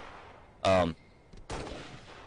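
Gunfire in the video game Halo: a short, loud burst near the start, then a second blast about a second later that trails off, heard close up.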